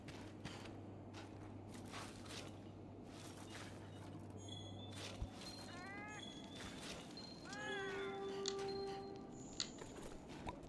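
Cat-like meows from a Palico in Monster Hunter World, a few short rising chirped calls heard mid-clip over a steady game ambience with a low hum and scattered clicks.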